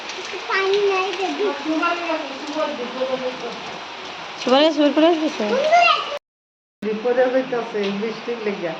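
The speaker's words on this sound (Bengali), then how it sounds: "আর এদিকে দেখেন কেমন বৃষ্টি হচ্ছে সারাদিন ভরে বৃষ্টি আর বৃষ্টি নামতেই আছে" Rain falls steadily through a long day, a constant broadband hiss under near voices that talk over most of it, with a brief dropout shortly before the end.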